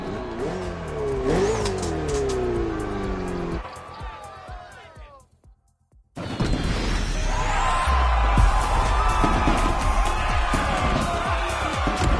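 Racing car engines in the video game The Crew Motorfest rev and scream past at high pitch, cut briefly to near silence, then return with a roaring, busy rush of engine noise.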